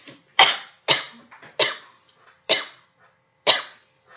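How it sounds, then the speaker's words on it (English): A series of harsh, loud coughs comes in uneven bursts, about five sharp hacks separated by short breaths, close up and with no talking. "So glad that my coughing fit started after I recorded"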